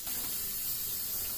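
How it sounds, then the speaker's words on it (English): Steady broadband hiss of thinned paint being sprayed from a paint sprayer for a miniature painting job, continuous and close for over a second before cutting off abruptly. "So spraying pretty good, spraying pretty thin"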